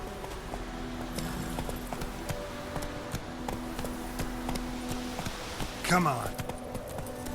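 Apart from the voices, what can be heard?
horse Roach hooves clip-clopping, video game The Witcher 3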